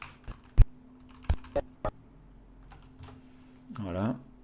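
Scattered keystrokes on a computer keyboard, likely arrow and Shift keys during video editing, land as sharp separate clicks in an irregular rhythm, close and fairly quiet, with a brief voice near the end.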